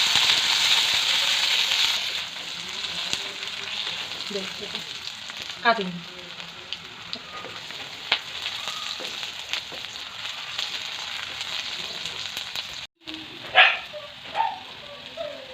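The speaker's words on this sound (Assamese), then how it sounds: "এয়া পিঁয়াজখিনি ভজা হৈ গৈছে।" Chopped onions frying in a pan with panch phoron spices and a split green chili, making a soft continuous sizzle with scattered clinks and scrapes, a few brief loud knocks, and a short spoken word near the end.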